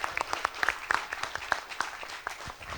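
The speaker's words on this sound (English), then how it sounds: "A big round of applause for him." Scattered applause at a kids' carnival showcase, sparse irregular claps from a small audience, fairly faint and brief.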